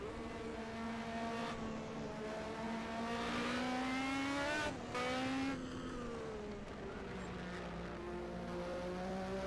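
1986 Formula 1 race cars in a racing video game scream past with high, rising and falling engine whines, several cars overlapping and one sweeping by close before fading.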